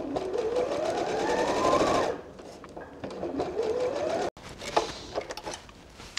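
A sewing machine running a seam on a fabric-scrap cutlery roll, a loud whirring burst with rising pitch for about two seconds, then a shorter softer run, a sharp pause, and light clicks and handling noises.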